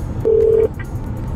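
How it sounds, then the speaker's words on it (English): A single steady telephone keypad dialing tone, loud and close, held for about half a second, followed by a brief fainter beep; placed while calling a phone number taken from Stranger Things season 3. "calling a phone number that she pulled from season 3 of Stranger Things"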